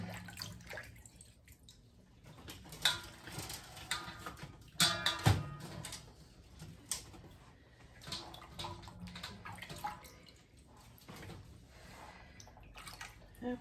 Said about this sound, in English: stick in this over the sink strainer I have here, so it can drain off most of the water